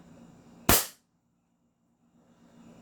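A 2011 AW Infinity 6.0 airsoft pistol fires one sharp, loud, close shot during a chrono test, followed by near silence.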